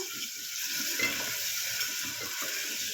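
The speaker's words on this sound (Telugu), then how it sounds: "వేసుకొని ఫ్రై చేసుకోవాలి. కొద్దిగా ఫ్రై చేసుకోవాలి నూనెలా." Soaked chana dal and toor dal fry in oil in a village-style kitchen for an upma, a close, continuous sizzle with the scrape and clink of stirring in the pan, no talking.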